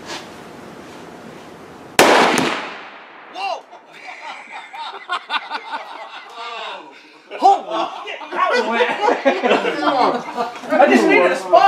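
A sudden loud blast of Tannerite exploding in a barrel after being shot outdoors in the woods, a single close boom with a fading tail, followed by people laughing and talking.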